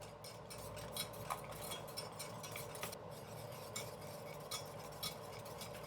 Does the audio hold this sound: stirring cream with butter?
yes